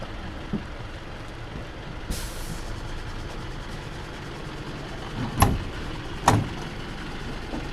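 A school bus stops nearby with a short air hiss, then two sharp, loud air-brake bursts close together near the end, set against a constant low engine and road background.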